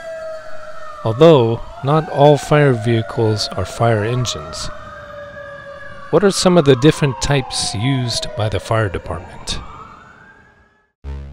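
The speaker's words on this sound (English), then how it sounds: "When we hear the sound of sirens, we expect to see a fire engine approach and pass by." Fire engine siren, loud wailing tones sweeping up and down, with someone speaking over it throughout.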